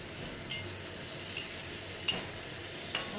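Hilsa (ilish) fish head and vegetables frying in a pan make a soft continuous sizzle, with four sharp utensil clicks spaced evenly about a second apart.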